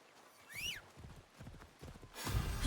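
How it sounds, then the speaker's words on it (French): A horse in the video game Assassin's Creed Shadows clip-clops along in rhythmic hoof beats, with a rising whinny early on and a louder surge of movement at the end. "Le cheval, c'est rigolo."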